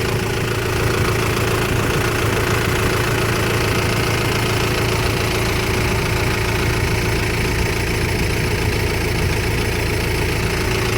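An Isuzu diesel engine on a Thai farm vehicle runs loudly and steadily at idle, with a constant low rumble and knocking vibration throughout and no voices.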